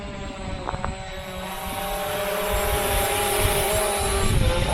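A Visuo K1 Pro drone flies in to land, its propellers making a close, rising whine with tonal hum and wind buffeting that grows steadily louder, no voices present.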